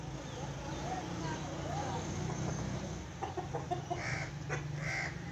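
Pure black laying hens cluck at a farm, a few short bursts of fowl calls rising in the second half over steady background noise, with someone talking throughout.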